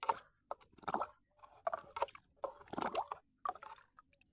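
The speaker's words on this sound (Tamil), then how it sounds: "ஒரு டப்பா எடுத்து அப்படியே தண்ணிக்குள்ளே கொடுத்துருவாங்க" A tin is dipped into water mixed with plant pesticide for a moringa tree, giving repeated soft wet sloshing and squishing splashes in short bursts, close and alone.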